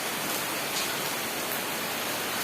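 Rain falls steadily in a soft, even hiss that stays constant throughout, with no voices.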